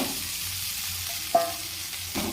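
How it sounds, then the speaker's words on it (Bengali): Cooked rice goes into a pan of frying onions and turmeric, bringing a steady low sizzle with a sharp scrape of stirring midway and more stirring toward the end. "এরপরে এতে ভাতটা দিয়ে দিচ্ছি"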